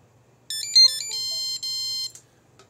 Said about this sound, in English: This is not the normal startup tone for Pixracer.